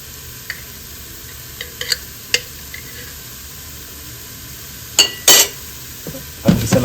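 Laing with shrimp paste, chili and thick coconut cream is sautéed in a pan, giving a soft steady sizzle broken by scattered clinks and scrapes of stirring.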